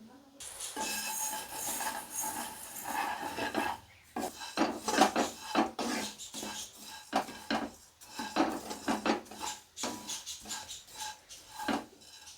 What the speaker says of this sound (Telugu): మరొక టేబుల్ స్పూన్ నెయ్యి తీసుకొని సేమియా వేయించుకుందాం.